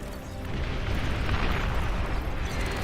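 An artillery barrage in the real-time strategy game Beyond All Reason lands as a dense, rumbling roar of overlapping explosions that swells and holds for a few seconds.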